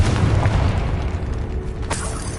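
A blasting-spell explosion in a Harry Potter video game, a loud booming burst with a deep rumbling tail, followed by a second sharp crack near the end, with no talking over it.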